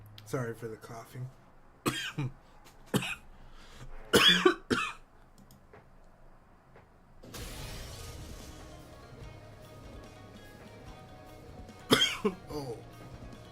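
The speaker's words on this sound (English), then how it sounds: "Sorry for the coughing." Repeated coughing fits, several sharp bursts with throat clearing spread over the span, up close and loud, followed by a stretch of steady background hum.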